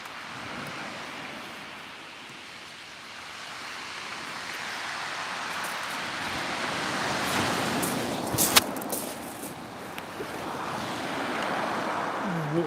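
Sea waves wash steadily onto the shore at Cley Next The Sea on the Norfolk coast, a continuous broad surf roar with gusts of wind buffeting the microphone, rising slightly louder over the second half.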